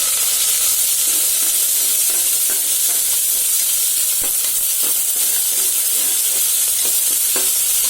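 Onions sauté in hot oil with popped mustard seeds, cumin, curry leaves and garlic for a moong bean kulambu, a loud continuous sizzle with scattered scraping stirs from a spoon, no voices.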